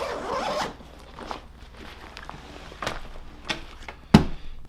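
A zipper pulled open along the top of a Nomatic camera bag, a close, scratchy run of teeth at the start followed by quieter handling rustles and a sharp click near the end.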